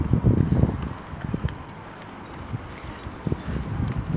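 Gusty wind thumps and rumbles against the microphone at an abandoned railway in Weymouth, loudest at the start, then easing into a lighter, uneven buffeting with occasional knocks.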